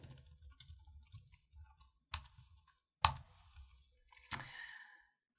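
Typing on a computer keyboard, scattered soft key clicks with a few sharper louder strikes spaced about a second apart, close and fairly quiet.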